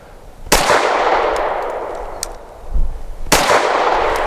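A Sig M17 X Change pistol fires Blazer aluminum-case 115 grain ammunition: two loud, sharp shots about three seconds apart, each ringing out into an echo at an outdoor range, with faint clinks in between.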